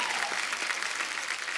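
A studio audience at a comedy talk show claps loudly and steadily in a continuous burst of applause, with no speech over it.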